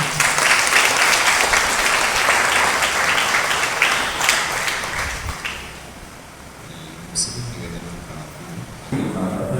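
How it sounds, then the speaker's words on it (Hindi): Loud applause fills a church wedding, sustained clapping from a gathered congregation for several seconds before fading, with a voice heard toward the end. "इस नए जीवन के लिए हम जोर से ताली बजा देंगे।"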